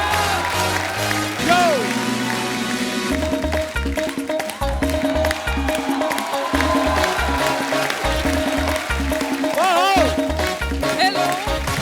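A studio audience on The Kapil Sharma Show claps and cheers to welcome Yami Gautam, Neha Dhupia and Atul Kulkarni. Sustained, loud applause runs under upbeat music and a host's voice.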